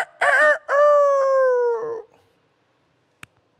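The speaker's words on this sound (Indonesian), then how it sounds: "Baru ayam berkokok." A rooster crows once, a loud, close, drawn-out call lasting about two seconds with a rising start and a falling tail, followed by silence and a single faint click.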